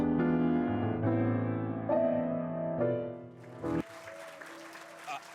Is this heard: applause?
yes